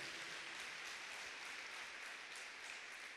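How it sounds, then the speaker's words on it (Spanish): Congregation applauding together at a church service, a steady, dense wash of clapping that stays even throughout, fairly distant and quiet. "Démosle un aplauso al Señor y pongámonos de pie."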